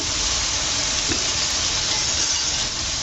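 Tomatoes with salt sauté in a pan with a steady, even sizzle and hiss. The sound is constant and moderately loud, with no voices.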